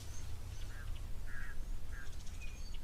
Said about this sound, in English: Long-tailed or meave starlings.